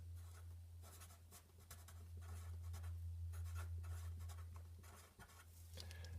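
Writing a note during a chemistry lesson on light emission and the Balmer series: a steady scratch of strokes in short bursts over a constant low electrical hum, close and clear.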